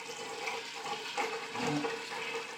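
Water rushes steadily from a tap into a container of homemade wine mix, a continuous splashing hiss with no talking.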